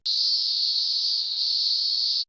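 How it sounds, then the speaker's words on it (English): A single steady, high-pitched electric buzz of a cicada call from the Blinky Bill's Ghost Cave PC game, loud and unbroken for about two seconds before stopping abruptly. "Is exactly the sound a cicada makes."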